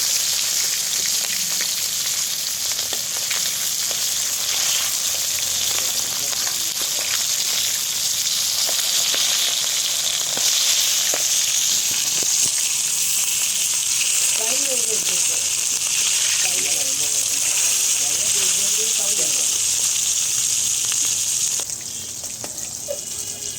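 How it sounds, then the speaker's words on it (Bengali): Hilsa fish pieces fry in hot oil in a pan, a continuous loud sizzle and crackle running steadily before easing off near the end. "একদম লাল লাল মুচমুচে করে ভেজে নেবো মাছের তেল একসাথে মাছ"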